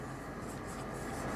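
A chemistry definition being written on a board, a dense continuous scratching that fills the short stretch at a steady, fairly quiet level with no voice over it.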